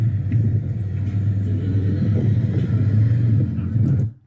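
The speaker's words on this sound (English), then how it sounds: "I want to hear that motor rev a little bit" A motorcycle engine rumbles loud and close on a race course, holding a steady low drone with slight surges before cutting off abruptly near the end.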